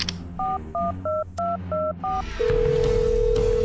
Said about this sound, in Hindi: ये कहकर चंद्रजीत ने अपना फोन निकाला